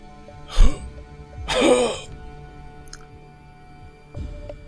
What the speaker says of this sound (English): Coughs up blood